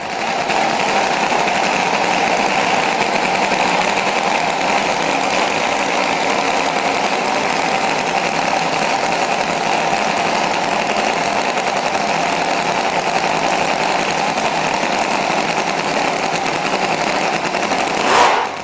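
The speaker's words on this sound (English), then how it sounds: "Now we have a tiny supercharged V8. Yes, it fits on a desk." A tiny desktop supercharged V8 engine runs continuously at a steady, buzzing idle, loud and close with no pauses.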